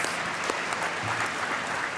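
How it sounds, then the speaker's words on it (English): Steady applause from an audience honoring long-standing members at a State of the Cities event, dense and continuous clapping filling the room throughout, fairly distant and even in level with no speech over it. "Let's give them a round of applause"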